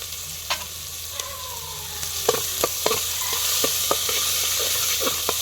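Onion sautéing in hot oil with a pinch of asafoetida and salt, a steady bright sizzle with scattered crackles and spatula taps, no talking.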